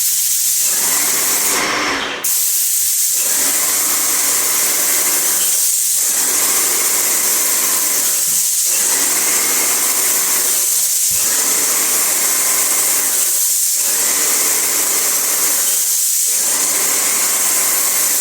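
A loud, steady hiss from an airless paint sprayer working in a loft conversion, repeated in long bursts of about two seconds each, broken by short regular pauses as the gun passes back and forth.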